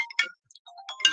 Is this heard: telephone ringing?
yes